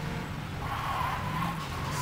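Car driving and skidding in Saints Row 2, a steady engine drone with a rising tire squeal through the middle, continuous and fairly loud with no talking.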